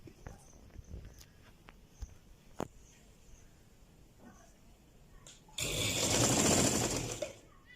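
A sewing machine stitches a white pleated kimono dress with African print and lace. Quiet fabric handling and clicks come first, then a loud, steady run of the motor for about two seconds.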